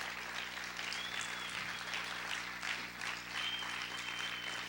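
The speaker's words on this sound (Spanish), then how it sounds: "Vamos a aplaudir fuerte a nuestro Dios." A church congregation applauds during a sermon, a steady wash of clapping from many hands, moderately distant and even throughout with a faint tone humming beneath.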